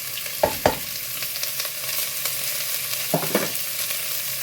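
Chopped onion sizzles steadily in hot oil in a pot for thari biriyani, with a few sharp clacks of a spoon stirring it near the start and again toward the end.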